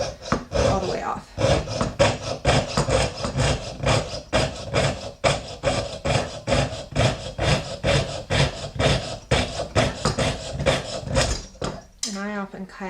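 Jeweler's saw cutting a wax casting pattern off its sprue tree for lost wax casting, a dense run of quick rasping strokes, close and steady throughout, with a brief metallic ring at the end.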